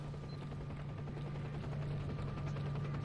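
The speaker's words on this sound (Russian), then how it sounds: "Слышу, вертолет еще летит." A helicopter flies overhead in the shooter game S.T.A.L.K.E.R.: Clear Sky, a steady droning rotor hum with a constant low pitch, moderately loud and unbroken for the whole three seconds.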